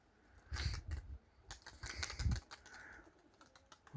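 Pigeons around their lofts, with bursts of wing flapping and fluttering and low cooing, several loud close flurries rising and falling over about four seconds with no voices.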